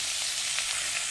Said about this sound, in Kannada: ಹಾಗಲಕಾಯಿ ಫ್ರೈ ಆಗ್ತಾ ಇದೆ